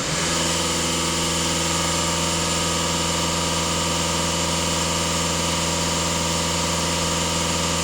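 Diesel Euro 6 car engine held at raised revs during a DPF service, a loud, continuous, even mechanical drone with a steady tone.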